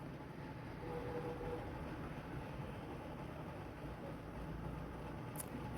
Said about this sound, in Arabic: المترو بتاعي جاي اهو من بعيد